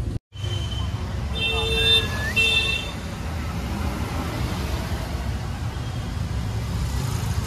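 An auto rickshaw drives through Mumbai traffic with a steady low engine rumble and road noise, as brief tonal horn toots from nearby vehicles sound early on.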